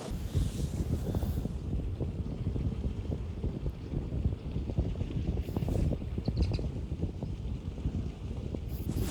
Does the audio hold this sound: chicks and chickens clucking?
no